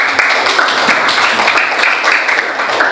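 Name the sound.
class applauding a student group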